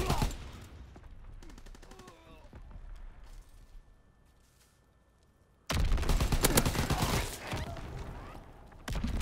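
Rapid gunfire in a WW2 shooter game, a dense burst of shots early on, a quieter stretch, then loud sustained firing with a player talking over it.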